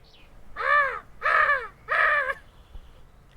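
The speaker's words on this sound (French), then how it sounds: "Et un corbeau chantait dans le noir." Three loud, evenly spaced caws of a crow made as a homemade sound effect in a night forest scene, each call drawn out and close, with a short silence after.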